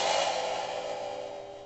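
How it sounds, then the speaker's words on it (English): A single crash on a Zildjian ZXT Trashformer stacked over a 16-inch Z Custom cymbal gives a bright, trashy wash that fades steadily over under two seconds, close and alone. "there's an actual stacked cymbal here."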